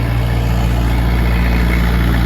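Skid steer diesel engine idling close by, a loud, steady low rumble with an even throb throughout and no talk.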